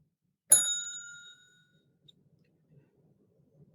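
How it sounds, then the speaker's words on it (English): A single clear bell rings once with a bright metallic ding that fades over about a second, followed by near silence. "Bell, please."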